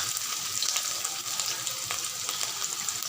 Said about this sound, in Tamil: எண்ணெய் காஞ்சதும் நறுக்கி வச்ச வெங்காயத்தை போடணும்